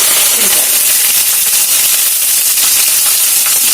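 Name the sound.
curry leaves sizzling in hot oil for upma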